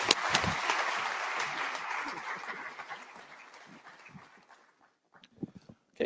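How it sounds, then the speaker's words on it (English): Audience applause at the IPC 2017 closing ceremony, a steady wash of clapping that gradually thins and fades to a few scattered claps before a brief pause. "So please join me again in giving him a round of applause."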